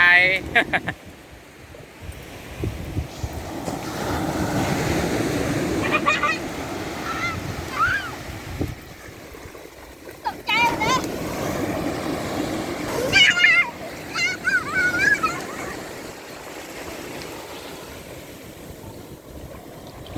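Ocean waves wash up on a beach, a soft broadband rush that swells and ebbs under wind, with children and adults talking and calling out over it.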